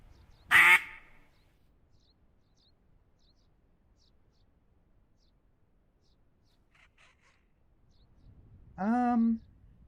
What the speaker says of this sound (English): Oh yeah, I do hear ducks.